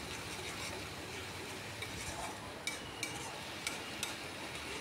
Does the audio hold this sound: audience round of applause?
no